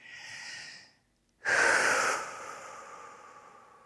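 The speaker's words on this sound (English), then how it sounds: "Taking a deep breath in and out." Slow, deep breath at a calm seated yoga practice: a soft breathing sound, then a pause of near silence, then a louder, longer rushing exhale that gradually fades out.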